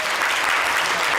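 An audience claps for a school group's performance at a religious talent show, a dense, even burst of applause, close and fairly loud, with no talking over it.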